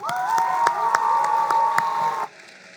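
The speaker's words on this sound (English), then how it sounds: "let's give a huge round of applause for the owl herself" Audience at the North Dakota FFA State Convention clapping in a steady rhythm over a sustained whooping cheer, loud and close, then cutting off abruptly near the end.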